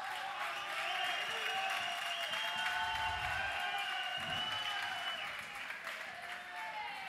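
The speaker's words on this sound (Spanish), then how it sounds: "Un aplauso para Ghosty" Steady, dense applause fills a Counter-Strike: Source esports grand final venue, the crowd clapping continuously with faint cheering mixed in as players are introduced.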